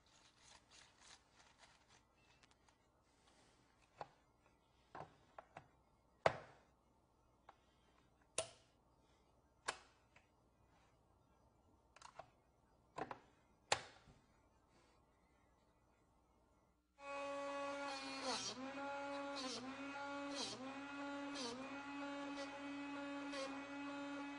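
A Drill Doctor 500X/750X drill bit sharpener: first a series of sharp clicks and taps as the bit is aligned in the chuck, then the motor starts with a steady whine and rhythmic grinding pulses as the bit is sharpened.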